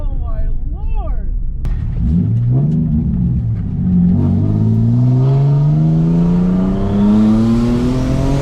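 Car with a rear-mount turbo setup revving hard on a dyno, a loud rising engine roar climbing steadily in pitch, with excited voices shouting over it.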